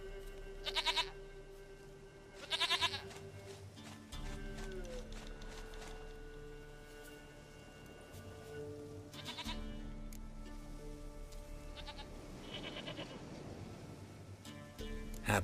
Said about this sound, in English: Goat of mine, dearest, sweetest goat.